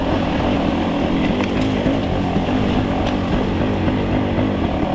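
A Fantic motorcycle engine drones steadily while riding a trail in Casey County, Kentucky, a continuous close rumble with slight throttle wavering throughout and no talking.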